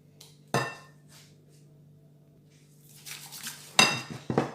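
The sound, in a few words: mixing quiche filling with salt and pepper in bowl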